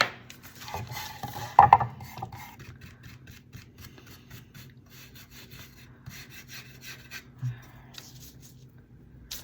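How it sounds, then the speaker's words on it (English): Bristle brush dabbing and scraping brown wax around the edges of scrap wood for rustic Christmas decor, soft irregular rubbing strokes with a couple of sharper knocks, close and fairly quiet. "I'm just going to go around the edges with the Jolie brown wax"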